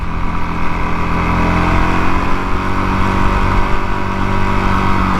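A motorcycle engine, fitted with a 12 O'clock Labs mini gauge, drones loud and close with a steady rumble as the rider shifts up through the gears, the pitch holding fairly even over the few seconds.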